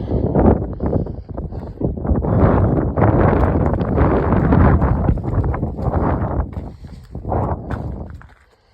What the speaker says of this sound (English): the wind's blowing a lot